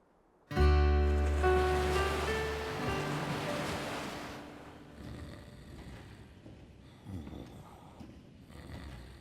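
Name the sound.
wind blowing, cartoon sound effect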